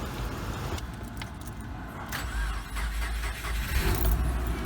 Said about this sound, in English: Crank right up.